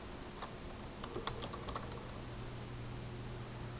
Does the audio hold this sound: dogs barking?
no